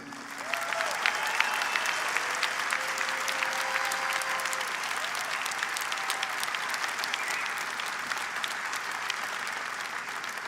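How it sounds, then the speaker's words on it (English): A large audience at a bodybuilding weekend event applauds the winner: sustained, dense clapping and crowd noise at steady loudness, with faint cheers and voices mixed in. "Let's give a great round of applause for this year's winner"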